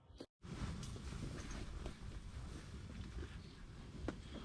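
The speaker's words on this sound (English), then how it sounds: "Well, it's windy." Steady wind roars across an open frozen lake in extreme cold, a continuous gusty rush that buffets the microphone, broken by one brief dropout near the start.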